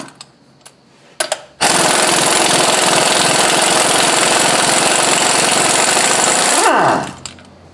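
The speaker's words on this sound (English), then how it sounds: "these bolts are tight, they're held on with Loctite, and the gun's the best way to get them off" A pneumatic impact gun hammers loudly and continuously for about five seconds, removing tight Loctite-secured flywheel bolts, preceded by a few sharp clanks and tapering off with a whirring spin-down.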